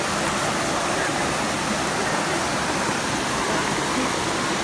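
Water rushing from a resort pool water feature, a dense, loud, unbroken roar of splashing flow filling the scene from close by, with no clear talk.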